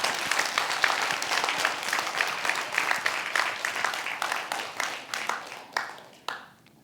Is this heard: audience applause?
yes